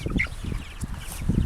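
Chickens cluck briefly on a family farm, with short, close clucks over a low rustling background.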